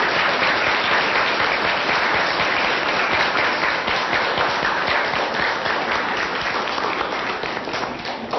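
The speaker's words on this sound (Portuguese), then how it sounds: "nós vamos aplaudir as felicitações que vocês trouxeram para esta assembleia" Students at a school classroom assembly clap together in a steady, dense burst of applause that holds at full strength for about eight seconds and eases slightly near the end.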